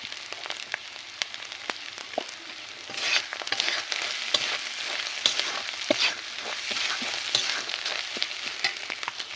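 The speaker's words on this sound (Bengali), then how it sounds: "এভাবে কিছু সময় মশলা নেড়ে চেড়ে নিতে হবে। মশলাটা ভালোভাবে ভেজে নিয়েছি।" Spices with turmeric powder fry and get stirred in a pan, a steady close sizzle with scattered scraping clicks from the spoon, and no voices.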